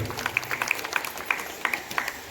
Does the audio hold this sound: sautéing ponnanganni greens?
no